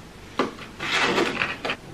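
A drawer in a large craft cupboard holding envelopes and glue slides open or shut, making a close, sharp knock and then a rubbing scrape that ends in another light bump.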